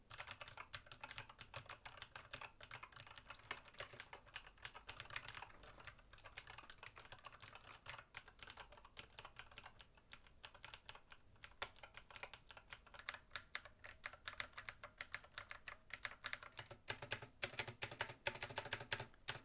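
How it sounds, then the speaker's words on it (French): Steady, rapid typing on a clicky Razer mechanical keyboard with green switches, sharp clacking keystrokes continuing without pause, close and fairly quiet. "je vais maintenant taper sur le clavier. Ça va être un Razer avec des switches green qui sont les plus bruyants"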